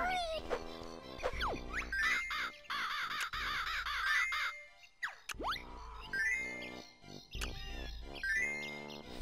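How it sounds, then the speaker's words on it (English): A bird caws repeatedly in the Banjo-Kazooie video game, with bright chiming game effects and music around the calls and no talking. "Feeding the bird, okay."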